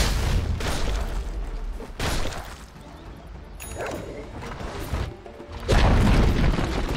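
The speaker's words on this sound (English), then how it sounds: "Dire's bottom tower has fallen." A tower under attack crumbles in a Dota 2 match, with repeated heavy booms and crashing impacts layered over dense battle noise, loud and close throughout.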